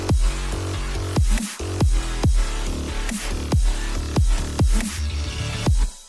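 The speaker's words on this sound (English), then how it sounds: "So all together, all those synths sound like this." Layered synthesizers, including a bright super saw, play together in a dense electronic dance drop with a pulsing bass and rhythmic chord stabs, loud and continuous with no talking.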